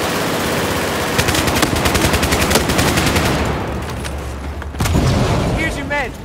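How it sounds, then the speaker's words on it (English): Rapid automatic gunfire rattles loudly in Battlefield 4 on the Locker map in Conquest mode, then a heavy grenade blast booms out, with voices in the game heard alongside. "grenade!"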